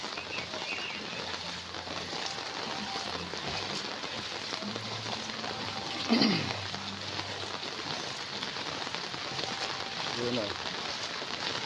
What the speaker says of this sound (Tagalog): Maulan pa.